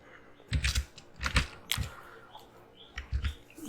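Keystrokes on a computer keyboard while text is typed into Python IDLE, arriving in short clustered bursts of clicks separated by brief pauses, fairly quiet and close with no talk.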